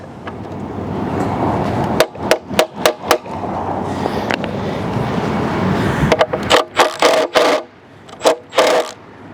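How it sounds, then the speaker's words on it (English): A socket being hammered onto a rusty lawn mower part: bursts of sharp, loud metallic strikes, a quick series of blows, a pause with clattering work noise, then another run of hits. "We're gonna try and hammer it in, hammer the socket in"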